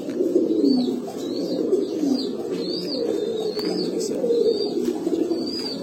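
Pankhi pigeons, the cock in moult, coo continuously in low, rolling phrases close up, while thin high chirps recur above them.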